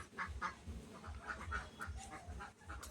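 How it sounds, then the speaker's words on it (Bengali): Penned domestic ducks quacking in a steady, overlapping chorus, fairly close, with repeated nasal calls and no talking. "এখানে পাতি হাঁস রয়েছে"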